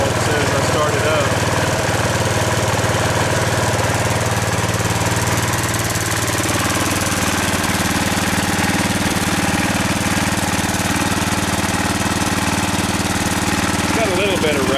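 A John Deere 140 garden tractor engine running steadily and loudly up close, a constant rough drone with some rattling throughout, its check valve leaking just after start-up.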